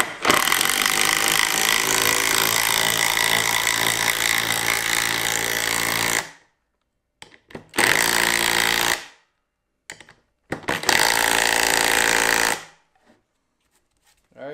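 A Greenworks impact driver drives a lag bolt into wood, loud and close, in a long sustained run followed by two shorter bursts, with silent gaps between them.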